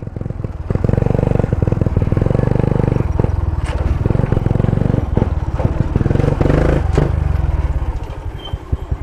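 An automatic motorcycle putters close by near an elementary school in San Marcelino, Taysan. Its engine throbs in a steady idle with some clatter, then cuts off near the end as it is parked.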